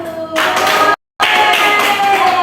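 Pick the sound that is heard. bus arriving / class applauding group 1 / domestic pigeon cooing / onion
class applauding group 1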